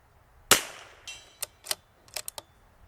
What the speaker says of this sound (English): Now we're going to shoot a group